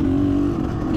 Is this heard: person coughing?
no